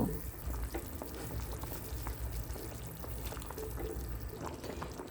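Pre-fried fish drops into a pot of boiling water for a fish curry, a busy bubbling simmer with scattered pops and light splashes, close and fairly quiet.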